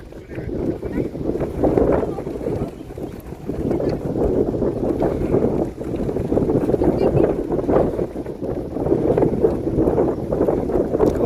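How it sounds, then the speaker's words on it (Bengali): Strong wind roars across a high mountain road on the Sandakphu route, buffeting the microphone in continuous heavy gusts with a low rumbling blast throughout. "সেই সমুদ্রের সামনে থাকলে যেরকম হাওয়া দেয় তেমন হাওয়া দিচ্ছে এখানে, ভীষণ হাওয়া"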